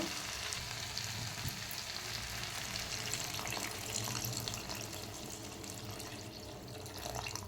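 Water goes into a simmering village-style curry cooked in the old wedding style, giving a steady close hiss and bubbling sizzle that continues evenly with no voices.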